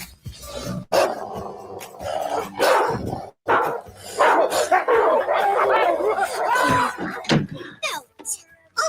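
Dogs bark loudly in short, repeated bursts close by, mixed with steady talking and other background noise.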